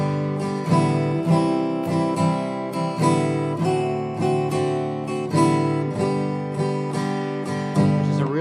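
Acoustic guitar moving through open chord changes, with a loose open-string strum ringing out between each chord, steady rhythmic strumming, close and alone.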